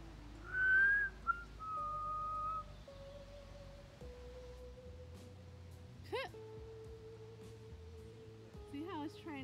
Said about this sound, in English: I whistled We Three Kings at him.